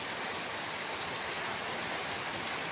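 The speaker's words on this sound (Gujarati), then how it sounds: "જોવો તમે, આમ ફૂલ વરસાદ આવે છે અત્યારે." Heavy rain pours down during summer, a dense and even roar of falling water that holds steady and close throughout, with no talking.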